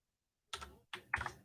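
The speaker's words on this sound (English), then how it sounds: "I'm going to copy and paste these in here instead of trying to type them all out" Three short bursts of computer keyboard typing, quiet and close, separated by brief pauses with no voices.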